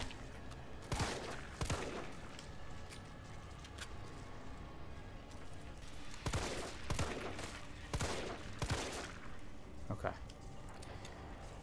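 Gunfire from a handgun in the Resident Evil 3 remake comes as separate loud shots in irregular pairs and clusters, with quieter game ambience and occasional voice between them.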